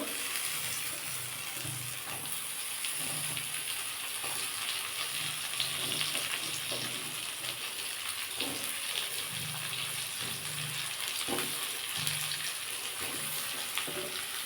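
Pumpkin, potato and bitter gourd fry together in a pan, a continuous watery sizzle with soft, regularly repeated stirring scrapes and knocks throughout.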